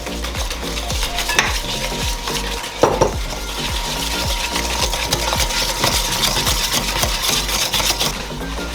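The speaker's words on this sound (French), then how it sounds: "Maintenant, on va venir mélanger avec la mascarpone jusqu'à qu'il n'y ait plus de petits grumeaux." A mascarpone dessert mixture stirred until smooth in a bowl: continuous close scraping and clinking of a utensil against the bowl, busy and fairly loud, with no talking.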